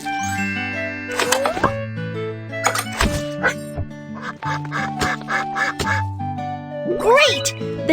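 A duck being cleaned and treated for a wounded webbed foot quacks in a cartoonish animated bird-rescue scene, with repeated loud quacks over bouncy background music and sound effects.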